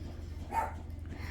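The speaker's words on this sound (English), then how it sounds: "I do not know what he's barking at" A single short, fairly faint dog bark indoors, heard once over a low steady hum.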